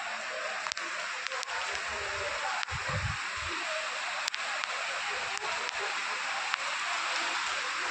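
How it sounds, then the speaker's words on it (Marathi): A dense, steady wash of heavy rain at Shree Mangueshi Temple in Goa, with scattered sharp drips and taps, plus a brief low murmur of a voice in the middle. "पाऊस लय जोरात चालू झाला मित्रांनो"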